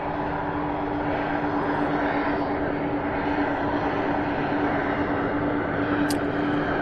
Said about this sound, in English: this one here is 767 out of Austin, Texas